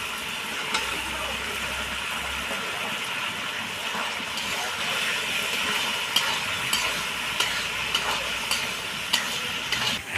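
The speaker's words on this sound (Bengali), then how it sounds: "এবার আমি ভিজে রাখা আলু দিয়ে মশলাটাকে কষিয়ে নেব" Spices sautéed with soaked potatoes in oil for an egg recipe, a continuous loud hiss of frying with regular scraping strokes of a spatula throughout, and a low rumble early on.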